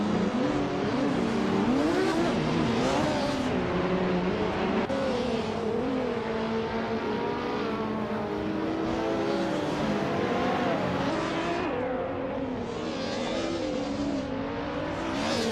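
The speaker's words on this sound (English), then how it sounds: "It's fun to watch these AI cars race around and see who's got the best speed." AI-driven race cars lap a track in a racing video game, with loud, continuous engine whine rising and falling through gear changes as the cars pass.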